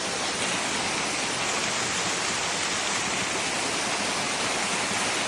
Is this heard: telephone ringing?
no